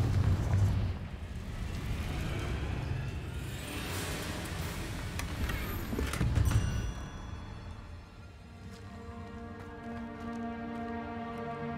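A Confringo blasting spell explodes in Hogwarts Legacy with a loud, rumbling burst that swells and roars for several seconds before fading into quieter game music.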